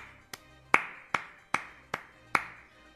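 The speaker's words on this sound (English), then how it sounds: "Slow clap. Slow clap." Six slow, evenly spaced hand claps, crisp and close, each ringing briefly before the next, with no talking.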